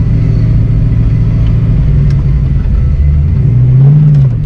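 A 1986 Ford Mustang GT V8 with a T5 manual gearbox runs loud and close, holding a steady rumbling idle before a brief rev swells near the end and settles back.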